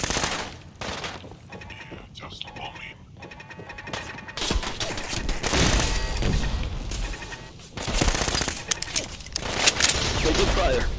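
Rapid bursts of automatic gunfire in a video game rattle in uneven volleys, swelling louder in the second half, with some talk alongside.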